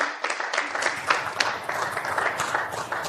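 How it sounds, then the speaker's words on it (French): Applause from the audience at a small-business prize final awards ceremony, a fairly soft, steady spread of clapping that runs for a few seconds without a break. "Et Christine Gonul, qu'on peut encore applaudir, s'il vous plaît."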